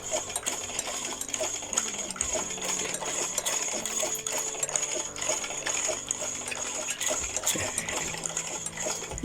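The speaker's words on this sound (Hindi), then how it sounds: "ये दूसरी हम इसी तरह सिलाई लगा लेंगे" A sewing machine runs steadily while stitching the neckline of a kameez suit, a fast continuous mechanical rattle with a dense clicking rhythm, close and unbroken throughout.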